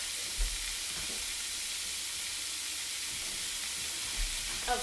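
Beef sizzles in olive oil in a hot skillet for steak street tacos, a steady broadband hiss held through the whole stretch with a couple of soft low thumps near the start and end.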